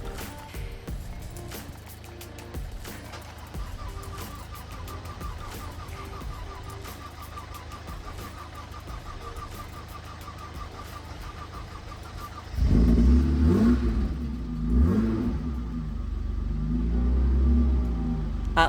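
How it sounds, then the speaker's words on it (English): A Mercedes SL-24 fitted with a new battery cranks and fires, then settles into a deep, steady idle rumble that is loud and close, following a quieter stretch before the start. "it was time to try start the car again."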